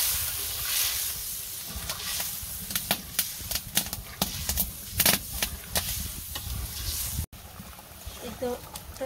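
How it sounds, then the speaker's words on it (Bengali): Water is poured into sautéed curry masala in a pan, setting off a strong, close sizzle with stirring scrapes and bubbling that continues steadily while someone talks over it. "এটা কষানো হয়েছে, দিয়ে দিলাম জল দিয়ে দিলাম।"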